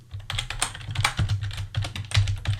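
Typing on a computer keyboard, a fast irregular run of light clicky keystrokes close up with short pauses between bursts, fairly quiet and alone.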